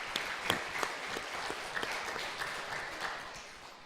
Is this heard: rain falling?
no